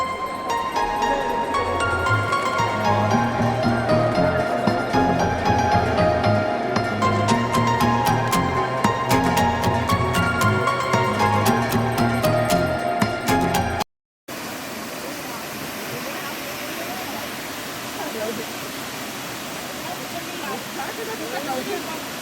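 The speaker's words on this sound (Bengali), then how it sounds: "ঠিক দেখো এই রাস্তা থেকেই জাস্ট এই সাইডেই হচ্ছে ঝর্ণাটা" A roadside waterfall near Ghatshila pours in a steady, full rush of water that carries on without a break, with light sounds from the surroundings mixed in.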